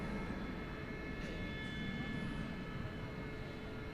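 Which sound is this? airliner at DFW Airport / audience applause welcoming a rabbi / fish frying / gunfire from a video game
airliner at DFW Airport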